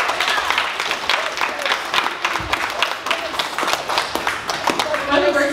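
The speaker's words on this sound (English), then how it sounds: "Can we give another round of applause for them?" Guests at a graduation party break into sustained applause, dense clapping from a nearby crowd that holds steady for several seconds, with voices mixed into the noise.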